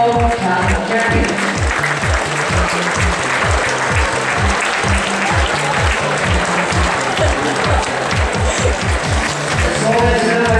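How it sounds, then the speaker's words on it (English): An audience at the 2013 Rubik's Cube World Championship finals applauds for the speed solve champions, a dense, loud, steady clapping that fills the whole stretch, with a rhythmic thumping running underneath. "Let's have a round of applause for all our 2x2x2 Rubik speed solve champions."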